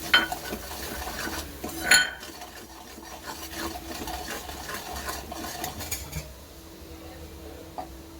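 A spoon scrapes and stirs dry ground spices roasting in a pan with ginger-garlic-chili paste for Gujarati guvar shak, a steady gritty rubbing with a couple of sharp metal clinks early on.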